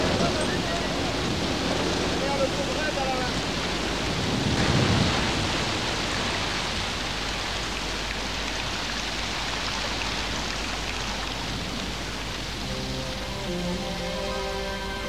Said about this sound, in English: tempests here can batter the jungle with many times more rain than storms in temperate zones